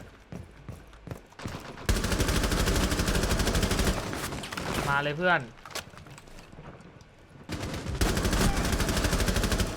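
Rapid bursts of automatic gunfire in the video game Rainbow Six Siege rattle loudly in long sustained volleys, with a brief pause and a voice speaking between them.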